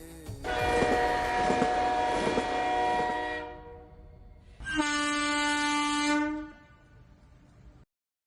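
A train horn sounds two loud, long blasts, separated by a short gap, then the sound cuts off into quiet.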